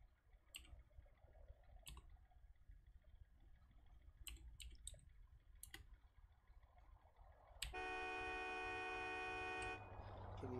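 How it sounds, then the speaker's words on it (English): Car horn honking in a role-play video game, a long sustained blare that starts abruptly near the end after a series of sharp clicks and ticks over a low background hum. "Can you please stop honking your horn?"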